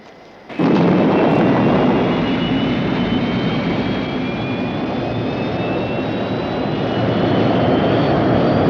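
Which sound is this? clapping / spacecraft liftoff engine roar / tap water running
spacecraft liftoff engine roar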